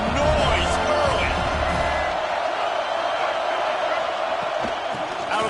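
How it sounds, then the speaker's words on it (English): A stadium crowd in the Football 26 video game roars with energy as a steady, loud wash of cheering, with a commentator talking over it. "This crowd bringing the energy and noise early."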